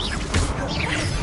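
The Incendio fire spell from Hogwarts Legacy goes off as a short, loud whooshing burst with a crashing impact, lasting about a second.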